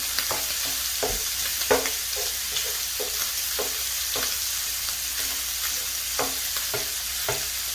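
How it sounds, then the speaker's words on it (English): Pork sausage sizzling and frying in a pan, with a steady crackle under repeated scraping and stirring strokes of a utensil against the pan, close and fairly quiet. "You're going to want to brown this really well."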